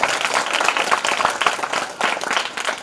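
A village audience claps, dense and sustained applause from many hands through the whole stretch, near and fairly loud.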